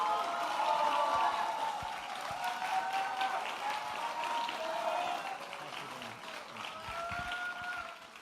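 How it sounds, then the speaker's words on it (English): A school service assembly crowd applauds departing friends, sustained moderate clapping in a large room with some murmuring and voices mixed in, gradually tapering toward the end. "big round of applause for our friends who are departing"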